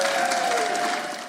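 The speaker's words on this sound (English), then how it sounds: "Democratic senators applauding their final vote." Democratic senators burst into applause in the chamber after a final vote passes a bill, a short, dense wash of clapping that fades gradually by the end.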